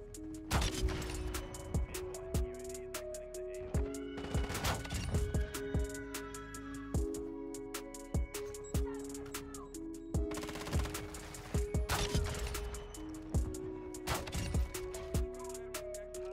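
Automatic shotgun firing in Call of Duty MW2, repeated heavy blasts in quick clusters with brief gaps, loud and close, mixed with game music and sound effects.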